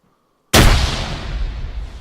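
A grenade blast in a Fortnite battle erupts suddenly after near-silence, a loud booming burst with a long rumbling, crackling tail that fades slowly.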